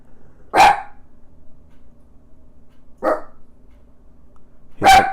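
A dog barks three times, sharp and fairly close, at spaced, irregular intervals, with quiet room background between the barks and no talking.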